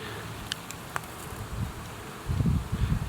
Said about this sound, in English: there's wasps about